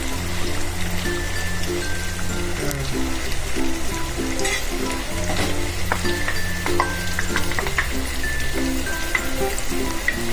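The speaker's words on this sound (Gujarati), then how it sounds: "હવે આપણે અહીંયા આ ગ્રેવી ઉમેરી દઈશું" White gravy hits a hot pan with paneer and sizzles loudly, a steady crackling fry with stirring scrapes over it, close and continuous throughout.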